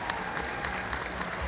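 Audience applause at an award ceremony honoring institutions and leaders, a short burst of dense, steady clapping from a crowd, fairly close and even throughout.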